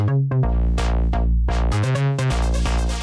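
A synth bass pluck made in the Phase Plant synthesizer plays a quick rhythmic pattern of punchy, bright notes with sharp attacks and short decays, loud and close with no voices.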